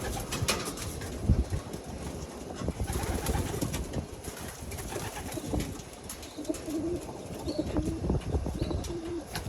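Racing pigeons coo in a loft, soft low repeated coos and scattered chirps overlapping throughout against a busy background of rustling and movement, with no talking.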